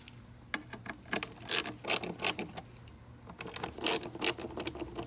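T27 Torx screws are loosened from the transmission computer of a Volvo XC90 with 245k on it. A hand ratchet gives short bursts of close clicking and rubbing, separated by brief pauses.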